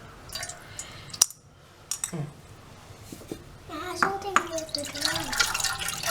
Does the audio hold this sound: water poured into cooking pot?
yes